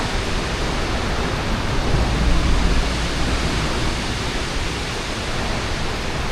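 A dense, steady roar of rushing water pouring over, like a waterfall heard close by, loud and unbroken throughout, with no voices.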